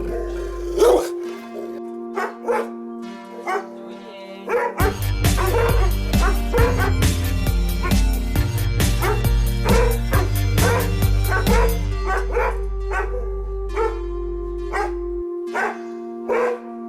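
Dogs of several breeds, including retrievers, Rottweilers, Dobermans, bull mastiffs and pugs, bark at a dog training school in Kottayam, Pala. Repeated barks and yips come through over loud, steady background music.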